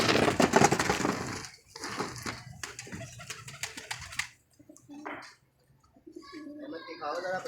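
Pigeons cooing close by, soft repeated low coos among rustling and scuffling, with someone talking over much of it and quieter calls near the end.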